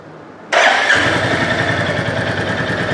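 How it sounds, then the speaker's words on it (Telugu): A 2025 Royal Enfield Bullet 350 single-cylinder motorcycle fires up after a brief quiet moment, the starter catching into a loud, close, steady thumping idle. "So let me turn it on."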